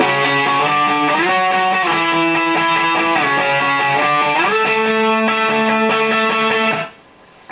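Distorted electric guitar plays a riff, a steady chugging rhythm with sustained held notes and shifting pitch, loud and continuous, stopping abruptly near the end.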